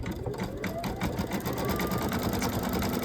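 An embroidery sewing machine stitches steadily up close, a fast continuous mechanical whirring and needle chatter with no talking.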